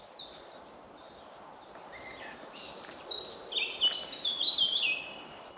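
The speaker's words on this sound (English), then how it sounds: "There's a blackcap singing." In the Hambleton Hills on the edge of the North York Moors, a blackcap sings alongside a chiffchaff. A fairly faint, distant warbling builds into a brighter, quick run of notes over quiet woodland air.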